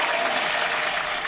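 A studio audience at a variety show bursts into dense, even applause, loud and continuous with no pauses.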